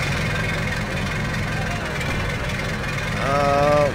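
Tractor engine in the video game Stubbs the Zombie, a steady mid-low rumble running throughout, with a brief rising, whining rev near the end; a voice talks over it.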